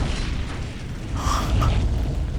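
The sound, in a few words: fragmentation weapon explosions in Dawn of War video game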